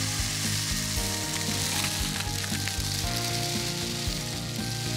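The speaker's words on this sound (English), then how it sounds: "should we listen to our Rainstick and see how what it sounds like?" A homemade craft rainstick is tipped, releasing a steady, dense rattling hiss of small pellets cascading inside, continuous and fairly loud for the whole stretch with no talk.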